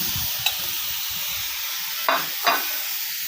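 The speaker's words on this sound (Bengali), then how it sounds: "এখন আমি এই ডিমগুলো ভেজে নিব" Eggs fry in a pan with a faint continuous sizzle and hiss, broken by a few brief scrapes or clinks of a utensil, quiet and close.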